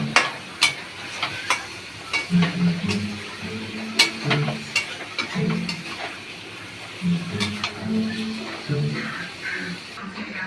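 Chicken and pork are stirred and sautéed in a pan with a soft sizzle, punctuated by scraping and light clinks of the spatula, while a person talks intermittently in the background.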